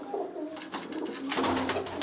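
A brief run of low, rolling coos from home-bred Teddy breeder pigeons, close and fairly loud, swelling slightly toward the end.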